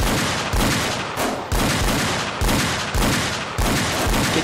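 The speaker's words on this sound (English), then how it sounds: "shots fired" Gunfire from the GTA IV police mod LCPDFR: loud, steady bursts of shots come in rapid, evenly spaced volleys across the whole stretch, with no pause between them.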